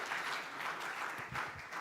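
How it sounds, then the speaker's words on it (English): Audience applause at a business and human rights conference in Malaysia, a steady wash of many hands clapping from a seated crowd that holds fairly even throughout. "just a quick round of applause for my colleagues"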